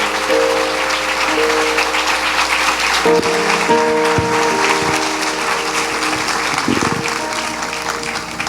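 Loud, sustained applause from a church congregation fills the clip, a dense wash of clapping that continues steadily throughout.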